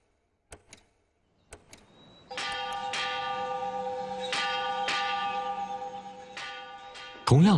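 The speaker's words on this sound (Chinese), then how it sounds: "同样的钟声已经在厦门大学的校园里回响了97年。" A bell chimes on the Xiamen University campus, struck several times in a steady sequence, each stroke ringing out in a sustained, layered hum; a sharp, louder knock cuts in at the very end.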